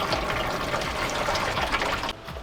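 Water pours steadily into a tank, a continuous close gushing rush that stays loud throughout and drops off slightly right at the end.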